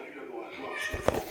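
A pet cat lets out a short meow near the end of a brief moment of background room noise, close and moderately loud.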